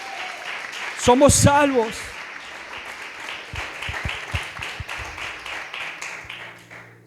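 A church congregation claps after a preacher calls out a short phrase. Scattered, uneven hand claps follow his voice and continue for several seconds at moderate volume.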